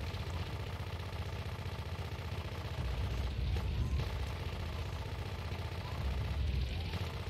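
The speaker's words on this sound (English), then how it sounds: "It's machine gun frenzy to destroy 8 cars" Rapid machine gun bursts from Grand Theft Auto 2 tear into cars, a dense crackling barrage of gunfire over a low engine drone, swelling in two louder stretches.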